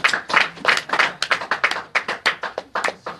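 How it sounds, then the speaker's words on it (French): A small group claps in a church, a dozen or so distinct hand claps in a quick, uneven rhythm, close and fairly loud, without broad crowd applause. "Est-ce qu'on peut acclamer très fort?"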